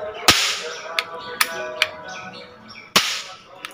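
A toy gun is fired during a Durga Puja Saptami celebration at home, giving five sharp cap-like cracks at irregular spacing, close and loud, over quiet room noise.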